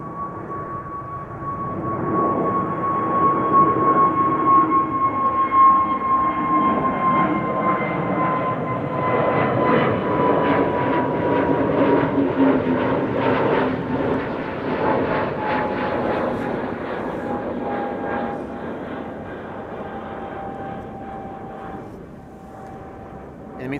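A China Southern Cargo jet arrives at Amsterdam Schiphol, a steady loud roar of engines with a high whine that swells and then slowly fades as it passes, alone without voices.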